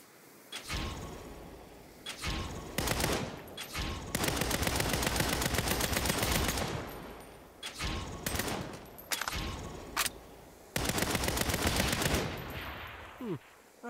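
Saints Row gunfire: long stretches of rapid automatic fire alternating with sharp single and short bursts, loud and close, separated by quieter gaps with no talking.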